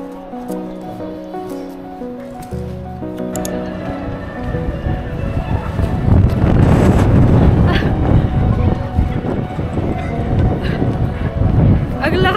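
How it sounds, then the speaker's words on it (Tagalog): Strong gusts buffet a handheld microphone outdoors in Japan in spring, a heavy low roar that swells louder midway and persists, with people talking faintly underneath. "Ang lakas ng hangin,"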